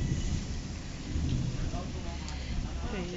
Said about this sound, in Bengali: শুনতে পাচ্ছ বিদ্যুৎ চমকাচ্ছে প্রচণ্ড।